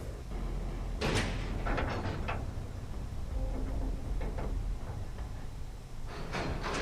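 Clunks, rattles and creaks come from a door being opened in the video game Dead by Daylight, in repeated mechanical bursts over a low, dark background drone.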